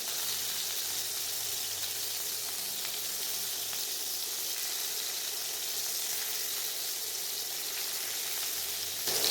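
Recheado prawns sizzle loudly and steadily in a hot pan as they caramelize, a constant bright hiss that continues unbroken with no one talking.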